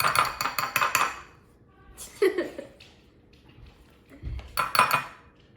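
Metal spoon clinking and scraping against a bowl while food coloring is stirred into a treat mixture, in quick rhythmic bursts with pauses, close up, with faint voices and a brief laugh.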